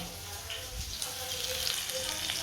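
Fenugreek leaves and green chillies fry in a pan with a soft, continuous sizzle and faint crackles, heard close but quiet.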